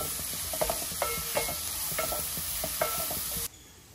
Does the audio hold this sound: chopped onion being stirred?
yes